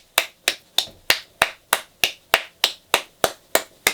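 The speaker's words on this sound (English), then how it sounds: "Why am I clapping my hands?" A single person claps their hands in a steady, even rhythm, about a dozen sharp, close claps spaced roughly a third of a second apart, with no talk over them.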